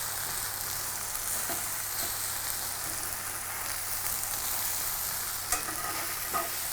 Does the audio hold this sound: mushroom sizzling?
yes